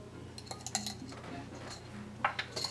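Orange pieces dropped into a bowl of cut apples for a fruit salad, giving a few light clinks and soft knocks against the bowl with small rustling in between, close and fairly quiet.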